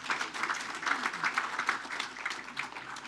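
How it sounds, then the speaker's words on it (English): Audience applause at a city council regular meeting: a steady, dense patter of hand claps from a room of people, moderately loud and sustained for a few seconds with no talk over it. "Let's give him a round of applause."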